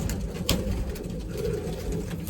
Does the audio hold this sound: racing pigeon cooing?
yes